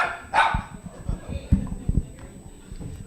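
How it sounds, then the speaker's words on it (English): A pet dog named Walter barks and howls along during singing at a Sunday service, with short close yelps and a whine over a murmur of voices. "We have our own singing dog"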